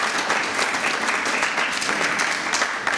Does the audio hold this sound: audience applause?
yes